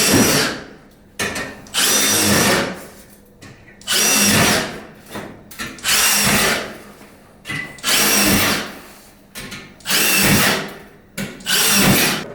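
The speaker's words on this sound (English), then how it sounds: "Same thing on this side here, create our pilot holes." A power drill bores pilot holes in a steel stud frame for an internal wall, firing in about six loud, close bursts of a second or so, separated by brief pauses.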